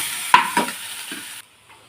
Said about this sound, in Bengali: এই যে এগ তারপরে চিংড়ি সব একসাথে দিয়ে ডিম হচ্ছে ডিম চাউমিন একসাথে আমি ভেজে নেব